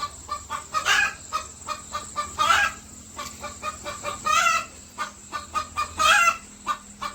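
Chickens cluck in short, repeated bursts, close and fairly loud, with a few higher squawks mixed in and no talking.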